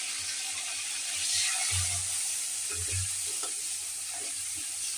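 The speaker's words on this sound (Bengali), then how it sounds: "চিকেনটা নুন হলুদ দিয়ে একটু ভেজে নিচ্ছি।" Chicken pieces frying with salt and turmeric, a dense, steady hiss of sizzling oil heard up close, with a few soft low thumps from stirring underneath.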